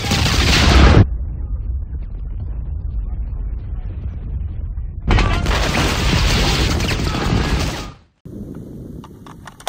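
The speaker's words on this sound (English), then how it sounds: "let's go ahead and hit the AR680 plate with a 20-inch barrel. M193, Lake City M193." Two loud, sharp rifle blasts of Lake City M193 rounds from a 20-inch barrel strike an AR680 armor plate outdoors, each followed by a long booming roll that fades before the next shot.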